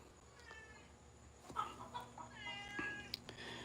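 A scruffy cat meows several times in short drawn-out calls beside a parked 1961 Ford F100 box van, close and fairly quiet against a steady background hum.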